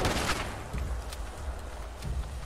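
Gunfire in the Fallout 76 game on PC: a few loud, sharp bursts of shots, near the start, around the first second and again near the end, over a steady rumbling background.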